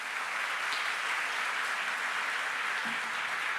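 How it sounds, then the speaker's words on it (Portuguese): A church congregation applauds in praise during a worship service, producing steady, dense clapping that fills the whole span at an even level, with no talk over it. "Vamos aplaudir o Senhor."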